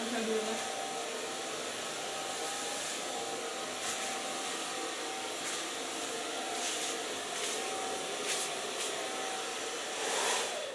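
Hand-held hair dryer blowing on hair during a styling session, a continuous airy roar throughout with brief intermittent shifts as it moves, and some soft talk underneath.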